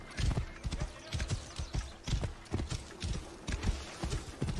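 Hooves of a horse clip-clopping in a video game, a steady close rhythmic trot of distinct hoof strikes repeating evenly throughout.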